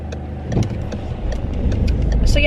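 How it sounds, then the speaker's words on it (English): Steady road traffic noise heard from inside a car crossing a crowded bridge, a continuous low engine rumble with passing vehicles swelling slightly louder toward the end. "There is so much more traffic than there usually is."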